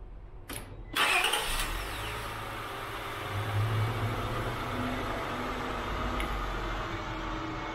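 A 2000 Acura 3.2 TL idles under a low, steady engine rumble. Early on, a sharp click comes from its engine-mount vacuum solenoid as it opens, and a fainter tick follows later.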